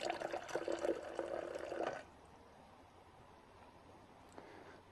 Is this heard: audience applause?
no